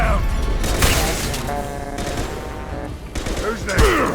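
A Mass Effect 2 video game firefight brings loud bursts of rapid gunfire and heavy shots, close and repeated over several seconds, with a voice calling out partway through.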